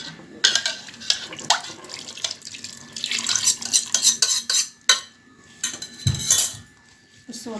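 A spoon stirs semolina basbousa batter with milk and sugar in a bowl, giving repeated scraping and clinking strokes with splashy wet bursts, close and fairly loud with no talk.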